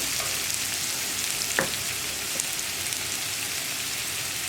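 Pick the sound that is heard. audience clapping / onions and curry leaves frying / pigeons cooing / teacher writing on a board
onions and curry leaves frying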